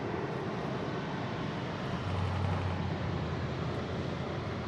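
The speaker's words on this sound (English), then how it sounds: "That is United 1140 departing to Washington Dulles on a 787-9 Dreamliner" United Boeing 787-9 Dreamliner departing Los Angeles International Airport, a steady distant jet roar with a low rumbling hum that swells briefly midway, no voices.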